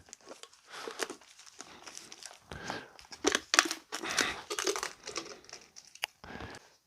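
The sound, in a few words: cutting apart a plastic bottle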